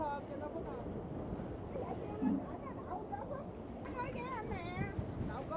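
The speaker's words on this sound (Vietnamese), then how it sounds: "Gió quá gió." Strong wind blasts over a barge out on the water in a windy season, giving a loud rushing roar and buffeting on the microphone, with water sloshing underneath and voices talking over it.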